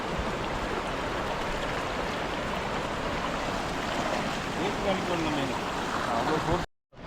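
Flooded Kaveri river near Mysore surges past in a loud, continuous close-up roar of churning water, steady for several seconds before cutting out abruptly near the end.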